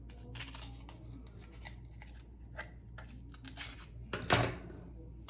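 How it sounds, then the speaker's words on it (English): Scissors trim a bumpy piece of cardboard with a string of quick, close snips, irregular in rhythm and ending in one louder cut. "I'm gonna use the scissors just to clean it off a bit."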